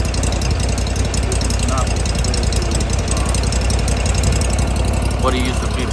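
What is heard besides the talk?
used Scag Cheetah mower engine running after valve cover gasket change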